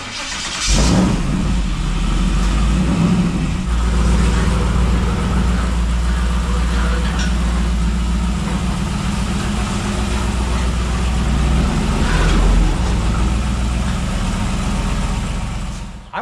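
A car engine runs steadily for about sixteen seconds, a loud, close, continuous mid-pitched drone that swells slightly near the end as the car backs up, with a little faint talk in the background.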